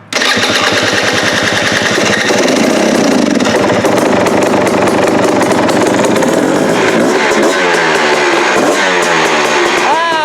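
A freshly rebuilt motorcycle engine with a new exhaust pipe and silencer fires up on choke and runs, a loud, close, rapid chugging that settles into a steady revving idle.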